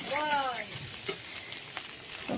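Boiled taro and fish being sautéed in a pan, a steady soft sizzle with a few stirring scrapes, close and fairly quiet, with no talking.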